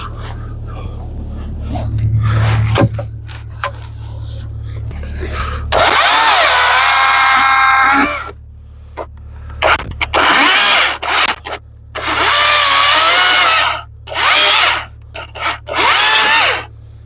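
A power tool cuts through wooden dowels in a cabin wall at an off-grid Alaska homestead, its loud whining motor running in long bursts that start and stop repeatedly at close range.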